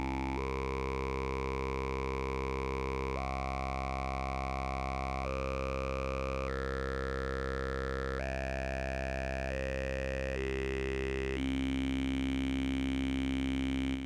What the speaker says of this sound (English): When we start turning the knob, it will start filtering with the first vocal sound.